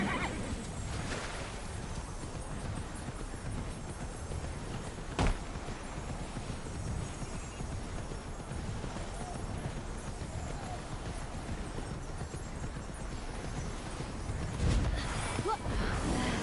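A horse in the video game Immortals Fenyx Rising trots with steady clip-clopping hooves and gives a couple of brief whinnies, heard over a constant game ambience with no talking.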